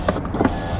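Electric window motor on a cheap used VW Passat whirring briefly as the glass moves, a close, short mechanical hum inside the car with no talking.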